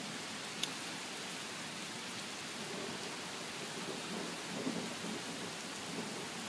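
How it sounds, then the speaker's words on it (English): Steady rain hisses in a broad wash under a rolling thunderstorm, with a faint distant rumble and a couple of brief crackles, no voices. "I love thunderstorms."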